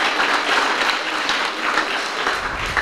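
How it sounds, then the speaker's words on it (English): A ceremony audience applauds Cub Scouts at a Blue and Gold event, steady dense clapping that stays loud and even throughout with no voices on top. "So give them a round of applause for that."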